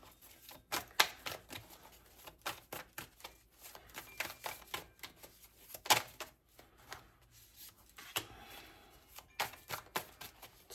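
Tarot cards are handled and laid down in a quick series of crisp slaps, taps and shuffling snaps, close and fairly soft, with no talk.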